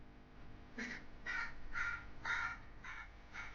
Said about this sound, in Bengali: ও কাক ডাকছে কাক কাক কাক